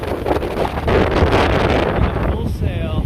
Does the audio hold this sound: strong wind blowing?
yes